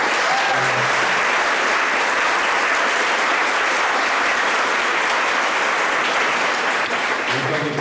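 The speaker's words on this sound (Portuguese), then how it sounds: "Pedir para vocês uma salva de palmas" An audience at a meeting applauds steadily, a dense wash of clapping hands that holds at full strength throughout.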